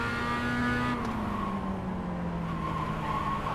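Race car engine in a racing video game holds a steady high drone with a slowly falling pitch, tyres faintly squealing underneath, continuous and fairly loud with no voices.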